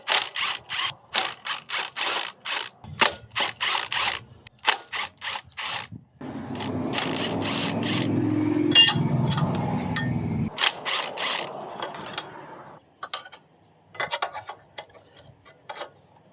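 Ratcheting and clicking of a wrench backing out six 8mm bolts on a CT200UEX trike, in repeated short bursts with a steadier whirring stretch in the middle, close and fairly quiet.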